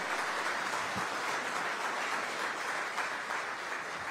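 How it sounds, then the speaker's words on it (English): Audience applause for an IT department at a city of Aurora technology and innovation event: a steady, fairly quiet wash of many hands clapping that holds evenly throughout. "Let's give our IT department another applause one more time."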